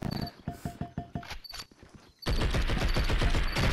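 Gunfire and a grenade blast in the video game Blood And Bacon: rapid bursts of shots that break off briefly, then give way at once to a loud, sustained wash of explosive roar that holds to the end.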